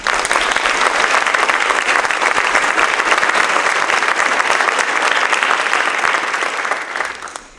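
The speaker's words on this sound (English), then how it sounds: "Please join me in giving them a round of applause." Loud, sustained applause from a high school scholarship awards audience for graduating students, a thick wash of clapping that holds steady and then tapers off at the end.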